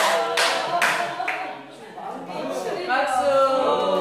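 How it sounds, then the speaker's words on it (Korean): Students at a middle school clap and cheer after a correct quiz answer, a dense burst of applause that swells, dips briefly and rises again, with voices mixed in. "박수"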